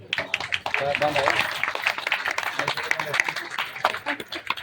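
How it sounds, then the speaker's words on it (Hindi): An audience at a devotional singing gathering claps along, dense and continuous clapping mixed with voices and cheering, moderately loud throughout. "ताली बजाइए इनके लिए"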